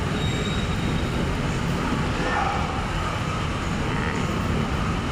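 An LRT train rumbles loudly and continuously as it rolls into the station, with a faint high squeal of wheels over the heavy roar.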